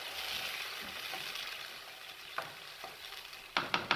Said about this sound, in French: je vais laisser mijoter ma tomate